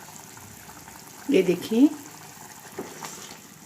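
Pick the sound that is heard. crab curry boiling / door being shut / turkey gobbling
crab curry boiling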